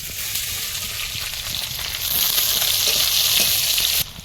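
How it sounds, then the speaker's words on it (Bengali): Chopped onion goes into hot oil with whole cumin, whole garam masala and bay leaf, giving a loud, close, continuous sizzle that swells midway and then cuts off sharply. "এবারে তেলের মধ্যে গোটা জিরে গোটা গরম মশলা আর তেজপাতা সব দিয়ে দেবো দিয়ে দিচ্ছি পেঁয়াজ কুচি"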